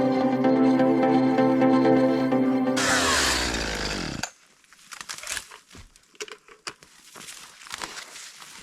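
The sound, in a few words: chainsaw bucking up tree limbs into firewood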